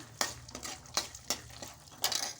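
Cumin and mustard seeds crackle in hot oil for a churumuri tempering as a spoon scrapes and stirs the pan, giving a soft sizzling bed punctuated by several sharp metallic scrapes at an uneven rhythm.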